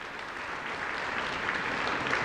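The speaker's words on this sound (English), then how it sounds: "Please give them a round of applause." Audience applause for a color guard at a WWII memorial victory gala, a dense, steady round of clapping from a large crowd throughout, alone and fairly even in level.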